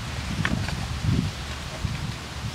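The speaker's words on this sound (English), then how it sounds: "Whoa, it's windy out." Wind blows outdoors, a low, continuous rumble buffeting the microphone with light rustling and a few stronger gusts.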